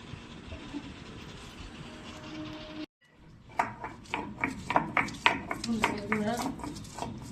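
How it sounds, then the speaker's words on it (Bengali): Garam masala of cinnamon, cloves and cardamom is ground by hand on a shil grinding stone, a quiet hiss followed after a short gap by a run of rhythmic scraping, knocking strokes close by. "গরম মশলা বেটে নিচ্ছি, দারচিনি, লবঙ্গ, এলাচ হাতে বেটে নিচ্ছি শিলে"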